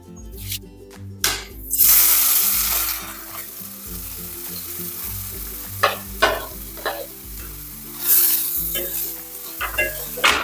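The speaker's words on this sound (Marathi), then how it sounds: "तर आता या तुपामध्ये आपण सोडणार आहे गाजरचा किस." Grated carrot frying in ghee for gajar halwa, a steady loud sizzle with sharp scraping strokes of a spoon stirring through the pan, alone without talk.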